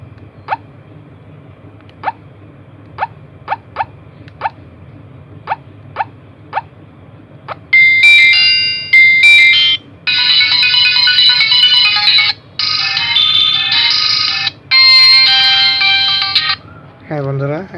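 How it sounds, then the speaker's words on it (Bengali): A mobile phone's loudspeaker, repaired after a speaker fault, first gives a series of short evenly spaced beeps, then plays a loud melodic ringtone in bursts with brief gaps. "এবার আমরা একটু রিংটোন দেখব।"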